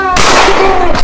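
A single sharp gunshot-like crack from a street police scene, a loud broadband burst that rings on with noisy reverberation for about a second.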